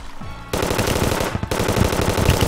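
Rapid automatic gunfire from the Terraria video game bursts in loud and continuous, with a short pause midway before the dense, rattling shots resume.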